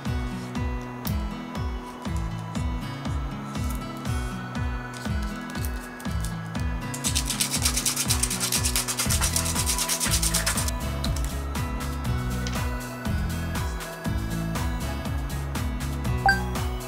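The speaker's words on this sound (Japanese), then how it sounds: "やすります。" A gummy-decorated smartphone case being filed and sanded, with repeated rhythmic scraping and rubbing strokes close up and a brighter, harsher stretch partway through.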